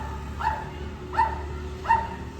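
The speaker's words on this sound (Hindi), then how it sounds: "इस कुत्ते को क्या हो गया क्यों इतना भौंक रहा है?" A dog barks three times at a steady pace outside a bike service centre in Bangalore, the barks moderately close and carrying over a low hum of background noise.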